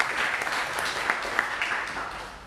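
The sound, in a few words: applause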